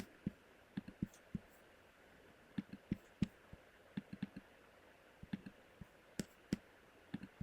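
A computer mouse clicks in quiet surroundings, with sharp, distinct clicks coming irregularly, sometimes in quick pairs or short bursts and sometimes after brief pauses.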